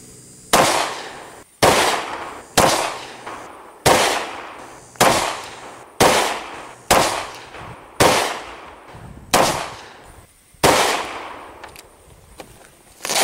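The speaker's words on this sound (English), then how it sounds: "Next, we're going to be shooting this Rock Island Armory 10mm, and we're using HPR 200 grain 10mm jacketed hollow point." Eleven sharp 10mm pistol shots from a Rock Island Armory handgun firing 200 grain jacketed hollow points at a soft armor panel, each loud crack ringing out with an echoing tail, spaced about a second apart, no talk.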